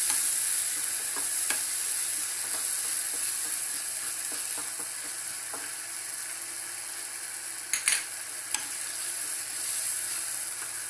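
Red chili paste stirred in a hot frying pan for a Mangalorean egg roast, heard as a constant sizzle with soft scraping strokes and a couple of sharp knocks near the end.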